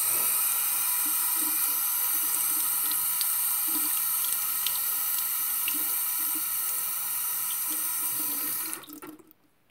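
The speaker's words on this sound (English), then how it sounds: "So now you rinse it." Tap water runs steadily into a sink as a product is rinsed under it, a constant close splashing hiss that cuts off abruptly near the end.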